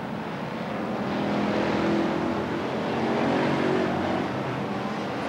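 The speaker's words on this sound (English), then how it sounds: "Cars still slowly across the track." Hotstox race cars at Northampton in 1992 keep up a steady, dense engine roar that swells and eases slightly over several seconds, a continuous mass of motors heard from a moderate distance with no speech.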